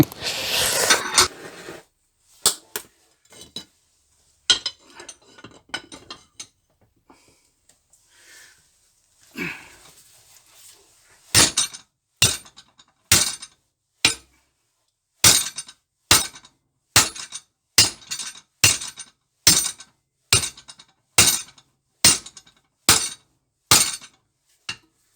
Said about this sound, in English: So that big sledgehammer certainly did the job.